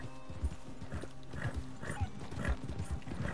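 Horse hooves clip-clop at a steady trot in the video game Red Dead Redemption 2, a regular run of close thuds over a low rumbling background with no talk.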